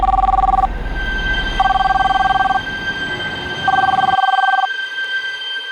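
A landline telephone in a crime drama rings in three loud electronic bursts, each about a second long with short gaps between them. A faint, muffled voice is heard briefly near the end.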